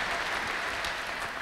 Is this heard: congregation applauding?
yes